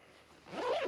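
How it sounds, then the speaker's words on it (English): A zipper pulled to close a bag pocket, one quick rising zip under a second long, faint at first and then louder and close. "Zip that up."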